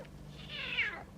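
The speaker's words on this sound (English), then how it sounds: "Wow, that's a good snow leopard." A snow leopard calling in a video played back on screen, a single drawn-out, rising and falling meow-like cry over a low background hum.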